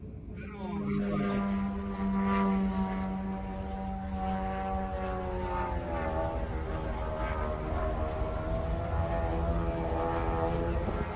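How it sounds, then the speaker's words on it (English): A Russian drone flies over Kyiv in November 2024, producing a continuous buzzing propeller drone with layered tones that slowly waver in pitch, steady and fairly loud throughout. "Can you hear this Russian drone?"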